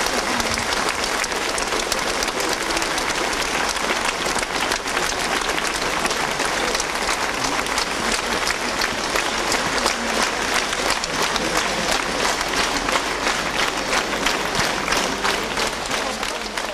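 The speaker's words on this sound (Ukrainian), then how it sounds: "Щире спасибі, гучні оплески!" Pilgrims at the all-Ukrainian youth pilgrimage in Zarvanytsia applaud loudly for the patriarch, a sustained, dense roar of many hands clapping without pause.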